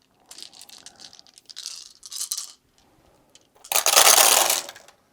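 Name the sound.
dice rolled for board game combat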